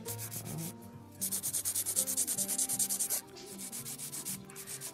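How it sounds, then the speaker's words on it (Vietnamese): A nail file works over a short nail overlay with rapid back-and-forth rasping strokes, close and rhythmic, pausing briefly before a faster run of even scrapes. "bắt đầu là em sẽ giũa cái chỗ này cho nó nằm xuống"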